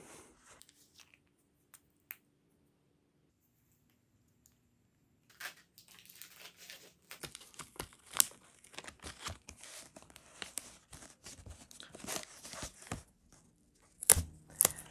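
Laser-cut parts for a Micro-R-Press are snapped and broken out of their sheet, giving a run of sharp cracks and crinkling snaps, sparse at first and then dense and close, with a few louder breaks near the end.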